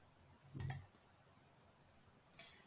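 A pair of sharp computer mouse clicks early on, then a softer click near the end, close and quiet against a faint room hush with no talking.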